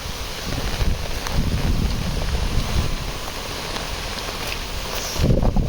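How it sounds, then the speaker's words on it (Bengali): Heavy rain driven by strong wind, a steady roar of rainfall and gusts buffeting the microphone, continuous and close with no talking. "প্রচুর বাতাস আর প্রচুর বৃষ্টি তার রাত থেকে অবস্থা জাস্ট বৃষ্টির শব্দটা শুনুন"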